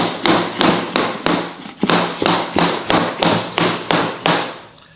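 Ten or so sharp, evenly spaced knocks from a plank hammer tapping vinyl plank flooring into place, each a crisp close thud with a short ring, the last one fading out.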